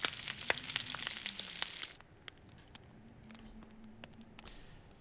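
Food cooks over a fire in the survival game The Long Dark, with a loud crackling sizzle for about two seconds that then falls to a quiet, sparse popping and faint crackle.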